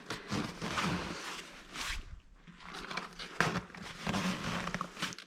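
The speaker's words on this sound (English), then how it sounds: "So we're going to pull these zips down." Zips being pulled down on a Chicco Next 2 Me bedside crib, two bursts of close rasping fabric noise separated by a short pause, with light handling sounds around them.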